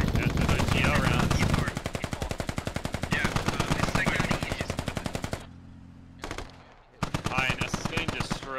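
Machine gun bursts in the Squad video game, long rapid strings of loud close shots that stop, leave a short lull with a faint distant pop, then resume, with voices talking beneath the gunfire.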